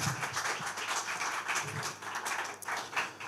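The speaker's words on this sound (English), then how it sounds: "Please clap for them." An audience claps during a church sermon. The applause is steady, dense and moderately distant, and it runs the whole time without a break and with no voices over it.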